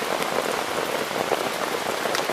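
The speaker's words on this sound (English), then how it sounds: "it's like proper raining" Heavy rain pours during a thunderstorm, pattering densely on a teepee's surface nearby, a steady loud wash of drops with no voices.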